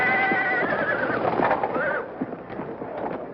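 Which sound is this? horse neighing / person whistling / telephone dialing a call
horse neighing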